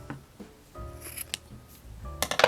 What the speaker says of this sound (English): what you'll want to do is you can snip your yarn. I'm going to snip both of them.